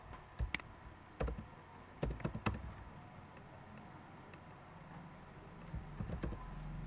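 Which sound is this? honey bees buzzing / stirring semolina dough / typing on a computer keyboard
typing on a computer keyboard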